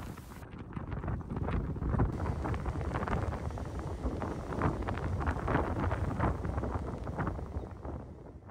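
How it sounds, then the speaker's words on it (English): Strong wind gusts across a beach camp on Cape Lookout during a sandstorm, a loud, continuous roar buffeting the microphone with rushing, hissing texture from blowing sand and no voices. "the wind picked up and the sand began to blow"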